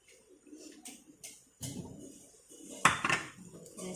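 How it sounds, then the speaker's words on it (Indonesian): Onions tipped into a pan of shrimp and red chili: a few close clinks and scrapes of utensil on metal, then a soft sizzling bed with sharper clatters, fairly quiet, no talking. "baru kita masukkan bawang bombaynya"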